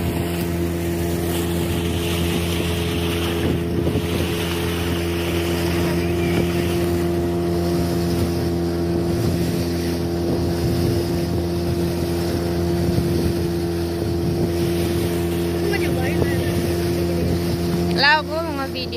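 A motorboat engine drones steadily and loudly throughout, with constant hum and wind rushing past the microphone, on the sea off Pulau Kunti in Ciletuh Geopark.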